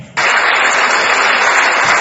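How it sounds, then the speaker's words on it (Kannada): A studio audience on a Kannada health television show breaks into loud, steady applause, a dense wash of clapping that starts abruptly and carries on without pause. "ಒಂದು ಜೋರು ಚಪ್ಪಾಳೆ ಕೊಡಿ"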